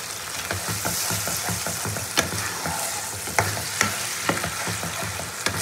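A spice paste for butter paneer sautéed in a pan, a constant sizzle broken by regular stirring scrapes and a few sharper spoon knocks against the pan, up close.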